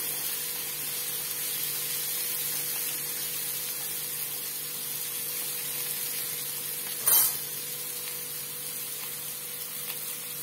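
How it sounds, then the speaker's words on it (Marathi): Prawns (kolambi) fry in a pan, Kerala style, giving a steady broadband sizzle that holds evenly throughout, with a single brief louder spit or clatter about two thirds of the way in. "आता मी कोळंबी फ्राय करून घेतली"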